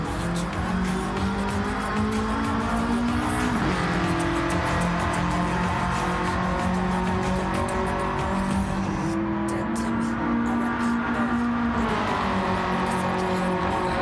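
A race car in Gran Turismo 7 on PS5 runs loud and close with a droning, shifting engine note and pitch sweeps as it changes gear, while tyres squeal continuously underneath.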